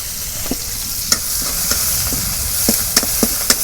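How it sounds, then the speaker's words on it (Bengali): Chicken meat with spices and onion cooking in a pan: a steady, loud sizzle and frying hiss, with a spoon stirring and scraping against the pan in sharp, irregular clicks. "এখন মাংস রান্না করব"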